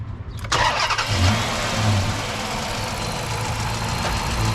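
A 2006 Dodge Magnum's 5.7-litre engine with a newly fitted K&N cold air intake cranks briefly and catches, then settles into a steady, loud low idle with a rough rumble.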